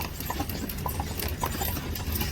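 Horse hooves clip-clopping steadily on pavement while pulling an Amish buggy in Lancaster, Pennsylvania, a close, even trotting rhythm with road and wheel rumble underneath.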